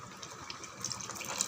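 Tamarind water for sambar trickling and splashing as it is poured in a kitchen, a short, close, continuous watery pour with no talking.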